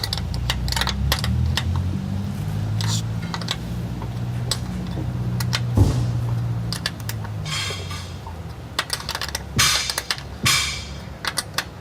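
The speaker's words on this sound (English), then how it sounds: "We're using a 1/4 inch ratchet though," A quarter-inch ratchet tightens bolts on a side step install for a Dodge RAM, rapid clicking pawl ticks in repeated runs over a low background hum, close and crisp.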